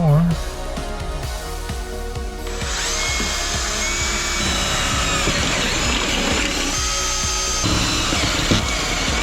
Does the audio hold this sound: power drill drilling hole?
yes